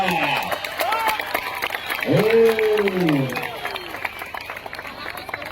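Crowd applause and cheering at a kusti wrestling match at the Hindu Garjana cup tournament in Pune: steady clapping and crowd noise under a loud announcer's voice, with a rising swell near the middle.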